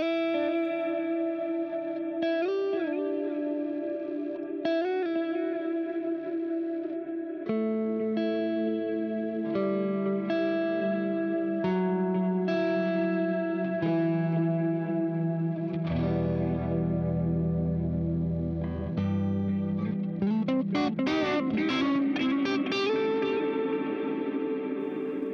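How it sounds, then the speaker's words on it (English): Electric guitar through a Vox-type amp tone using an ML Bulb Zilla Cab Pack preset, heavily effected with chorus, echo and distortion: picked chords and ringing notes that swell into denser, brighter strumming near the end, played alone. "underneath that, you have one of the most beautiful Vox type tones"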